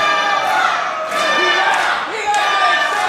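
A wrestling crowd at the Renegades of Wrestling Rise of the Renegades 2026 event cheers and chants steadily for wrestler Anth Cava, a dense, loud roar of voices with rising shouts throughout.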